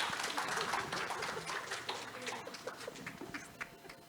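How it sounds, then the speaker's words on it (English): Audience applause at an international disaster-response symposium, steady clapping from a seated crowd that tapers slightly over about four seconds, with faint background murmur. "A round of applause for Dr. Elmer Lorenzana."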